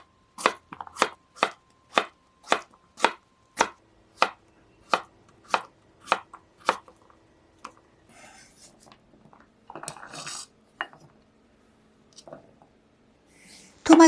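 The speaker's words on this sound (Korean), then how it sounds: "감자 2개는 작은 큐브 모양으로 썰어주세요." Knife chopping two potatoes into small cubes on a board for a tomato and potato dish: a dozen crisp, evenly spaced close chops, then quieter scattered handling noises and light clatter.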